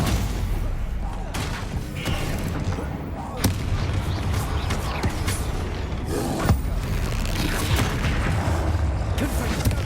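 Bombarda spell blasts in Hogwarts Legacy video game combat, a dense run of booming explosions and impacts with crackling debris, steady and loud throughout, mixed with other game effects.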